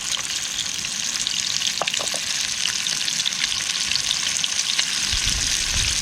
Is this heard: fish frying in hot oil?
yes